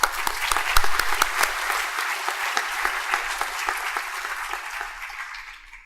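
Sustained applause from a graduation ceremony crowd, dense and steady, starting strong and gradually fading out over several seconds.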